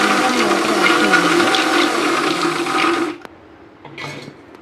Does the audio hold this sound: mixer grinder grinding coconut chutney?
yes